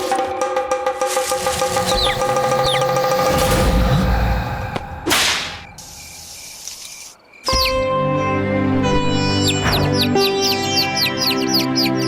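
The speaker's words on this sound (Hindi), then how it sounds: "पक्षी की आवाज तो यहीं से आ रही थी।" Birds calling in an outdoor setting, with repeated sharp whistled chirps and a loud whip-like swishing call, mostly steady under a dense background, briefly dropping out before the calls resume.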